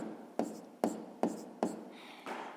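Pen writing out a grade 6 math calculation on paper, close-up, with four quick taps and scratchy strokes in an even rhythm, then a softer trailing scribble, with no one speaking.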